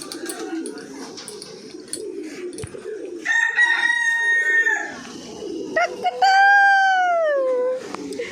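A rooster crows twice, loud and close, each crow a long rising-then-falling call, over a steady murmur of background noise and distant birds.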